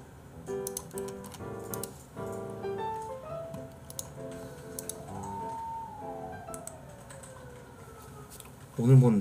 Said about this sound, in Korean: 이렇게 소방차 왔다 갔다 하고 경찰차 왔다 갔다 하고 난리도 아니네